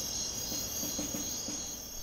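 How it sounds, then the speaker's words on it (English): Cicadas buzz in a forest in China, a steady, unbroken high-pitched drone that holds at an even, moderate level throughout, with no voices. "But the hypnotic buzz of the cicadas is too much for some"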